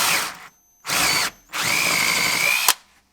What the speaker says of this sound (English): So using our 12mm drill now